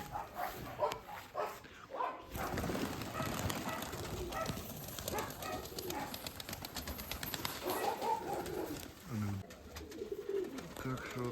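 Young pigeons are tossed into the air and flap off, bursts of wing claps and fluttering mixed with cooing, a dog barking and people talking nearby.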